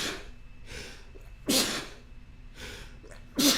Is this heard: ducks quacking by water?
no